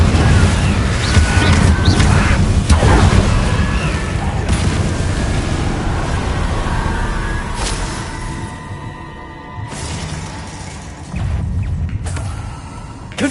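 Repeated Confringo fire spells blasting in Hogwarts Legacy, loud booming explosions one after another over a dense rumbling battle din, with a brief lull before another burst near the end.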